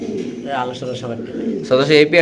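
Black Lahori pigeons cooing nearby in a loft, soft throaty coos rising near the end, heard under someone talking.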